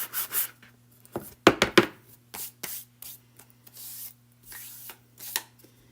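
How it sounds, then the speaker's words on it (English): Short bursts of rubbing and scraping as a wooden wall hanging is hand-sanded to a distressed look, several strokes in quick succession with pauses between, close by over a faint steady hum. "I love to do a little sanding."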